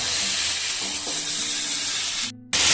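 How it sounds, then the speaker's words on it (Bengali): Boiled potatoes frying with spices in a pan, a steady loud sizzle throughout that cuts out sharply near the end and then resumes. "আমি এটা মশলাটা কষিয়ে নিচ্ছি। সেদ্ধ করা আলুগুলো সব দিয়ে দিলাম।"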